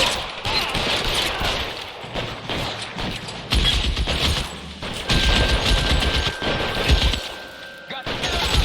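Dense gunfire in the LA Noire video game, rapid overlapping shots and bursts in a loud, continuous fusillade with scattered thuds, mixed with game sounds and a sustained tone in the later part.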